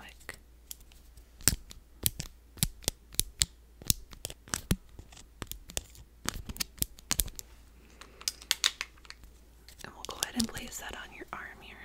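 Scissors snip a band-aid in a quiet indoor setting with a series of sharp, crisp clicks at an irregular pace, close and soft, with faint whispering.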